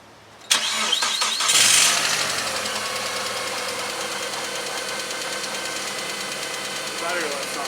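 A 1999 Mitsubishi Galant, being checked after an alternator replacement, cranks and catches with a loud burst, then settles into a steady, close idle with a belt-driven hum. A brief voice is heard near the end.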